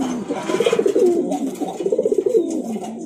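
Fancy pigeons at a pigeon seller's in Tripura coo in two rolling, throaty phrases, close and clear, with faint background ambience.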